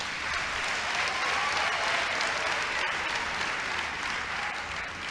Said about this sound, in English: another round of applause for Fiona